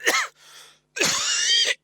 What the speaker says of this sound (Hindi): सॉरी, खांसी उठ रही है।